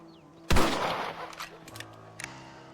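A single sharp rifle shot in Red Dead Redemption cracks loudly and then rolls away in a fading outdoor echo, with a few faint clicks trailing after.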